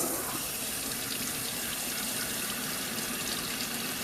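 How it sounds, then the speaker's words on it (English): Steady salon faucet water runs continuously as hair is rinsed at a wash basin, a close, even broadband spray with no talking. "Again, you're gonna let it rinse."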